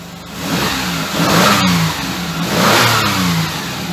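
A cold youngtimer car engine, not run for several days, turns over and settles, revving in two loud swells before easing back toward an uneven idle, close up with no talk.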